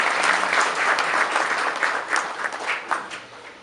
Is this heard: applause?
yes